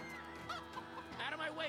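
Chickens cluck in a Minecraft Story Mode game scene, a few short, faint, choppy clucks over a low background bed of game sound.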